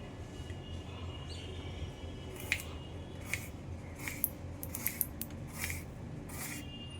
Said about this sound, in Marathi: आता आपण असंच पातळ स्लाईसमध्ये दुसरं केळं सुद्धा कापून घेऊ